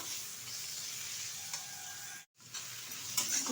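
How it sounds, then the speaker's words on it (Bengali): Mutton scraps being stirred in a frying pan, a soft continuous sizzle with light scraping, close but fairly quiet, briefly cutting out before resuming. "ভালোভাবে একটু নেড়ে চেড়ে নিচ্ছি"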